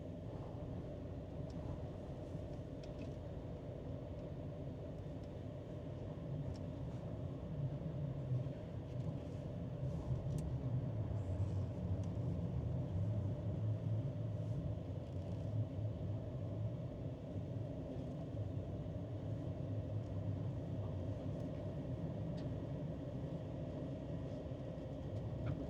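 A 1971 Lincoln Continental Mark III's 460 V8 engine idles with a low, steady rumble throughout, swelling slightly louder midway before settling back to an even drone.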